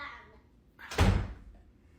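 A bedroom door at home swings shut with a single solid thud about midway through, after a quiet stretch with faint voice-like sounds at the start, then fades.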